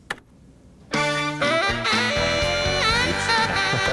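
A jazz music track in Pro Tools played with one piece of audio knocked out of sync, so the parts come in a dense, clashing jumble after a brief quiet start.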